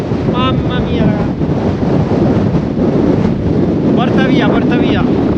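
Strong wind roars and buffets the microphone continuously at a scenic outdoor overlook, with a rushing broadband noise throughout and brief faint tonal sounds near the start and end.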